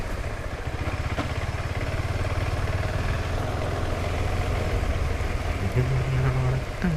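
A KTM Adventure 390 motorcycle engine drones steadily while riding off-road on a road-less trail, a constant mid-pitched rumble with some clatter, close and loud throughout.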